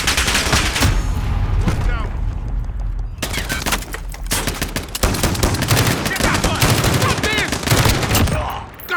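Rapid automatic gunfire from a RAAL MG light machine gun in Call of Duty Modern Warfare, sustained loud bursts with brief pauses, a short lull near the middle before firing resumes, and a voice talking over the shots.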